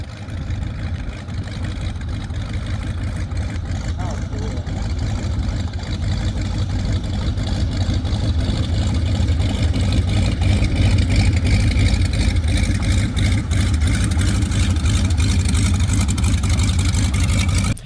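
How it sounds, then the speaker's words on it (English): A steady, throbbing engine drone with a heavy low rumble, continuous and fairly loud throughout, from a Chinook helicopter idling beside a runway nearby. "That was a Chinook idling there next to the runway."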